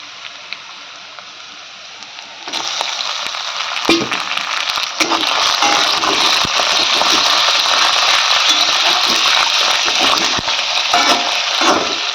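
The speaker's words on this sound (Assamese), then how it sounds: "এতিয়া দি দিম খাহী মাংসৰ তেলখিনি।" Goat fat hitting hot oil with ginger, garlic and onion, jumping from a quiet low simmer into a loud, steady sizzle and crackle that carries on with occasional stirring scrapes.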